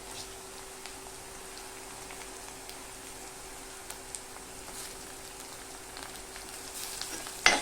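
Onion and tomato sautéing in a pan, a soft, steady sizzle with scattered light crackles and a slightly louder clatter at the very end.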